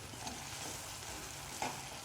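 Onions fry in a pan with a soft, steady sizzle, broken by a couple of light stirring scrapes, quiet and without any talk.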